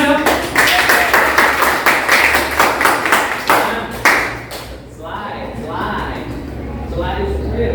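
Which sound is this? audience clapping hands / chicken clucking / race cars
audience clapping hands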